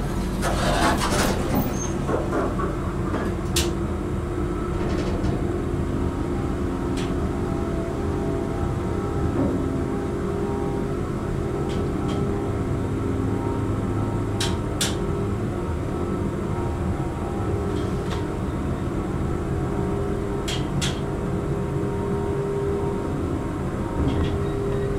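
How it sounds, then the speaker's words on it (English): Dover Impulse hydraulic elevator motor in a university building, a steady loud hum running throughout the trip, with a constant droning tone and a few faint clicks. "Best motor sound ever."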